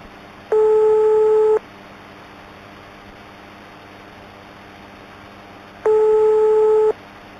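Phone busy signal in the horror video game It's Just A Prank: two loud, steady tone bursts about a second each, separated by a few seconds of quiet background hum.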